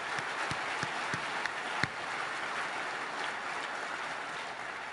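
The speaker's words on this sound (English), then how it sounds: "another round of applause for all the people who brought this together" Applause from a conference audience at Google I/O 2012 fills the room, a dense, steady patter of many hands clapping at a moderate distance with a few sharper individual claps.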